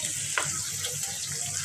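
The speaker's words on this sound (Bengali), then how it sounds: "চিংড়ি মাছ ভাজতে হলুদ দিচ্ছি আর কাঁচামরিচ দিয়ে রান্না করবো" Shrimp sizzles in a pan with onion, turmeric and green chilli, a steady close frying hiss with a brief stirring scrape near the start.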